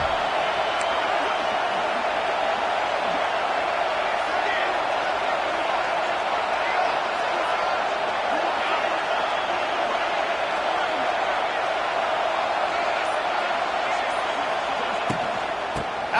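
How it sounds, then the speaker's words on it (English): A steady, dense roar from a home crowd in the video game College Football 26 fills the whole stretch at an even level, a continuous wash of noise with no distinct peaks. "Man, this crowd really affecting the football game."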